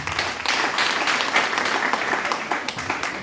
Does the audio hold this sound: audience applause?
yes